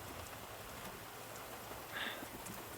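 Steady mountain rain falls in a soft, even hiss with scattered drops, heard alone at low level with a brief brighter patter near the end and no voices.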